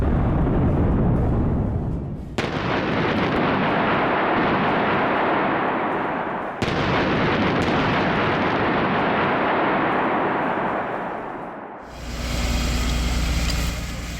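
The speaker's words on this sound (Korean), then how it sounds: "CCTV에 담긴 폭발 당시의 상황." A city gas explosion in a shopping alley, caught on a CCTV camera, comes as a loud roaring blast, then two more sudden booming bursts, each trailing into a long rumbling roar, ending in a harsh distorted crackle.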